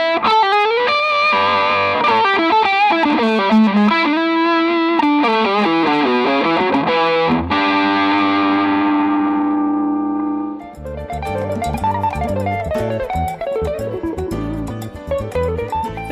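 A Carvin FG1 electric guitar plays blues-fusion lines through effects, with fast sustained, distorted and echoing notes that ring out, then give way to a quicker rhythmic passage; loud and continuous with no talking.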